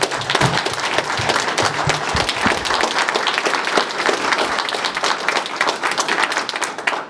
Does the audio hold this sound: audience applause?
yes